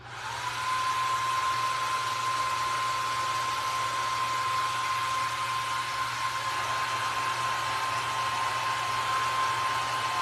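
A hair dryer blows steadily and loudly for about ten seconds, a constant whooshing roar with a thin whine, used to dry red paint on a primitive craft candlestick; no voices.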